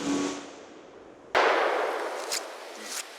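A .44 Magnum handgun shot hitting a light steel target: one sudden loud crack with a ringing decay, followed by two fainter metallic clangs.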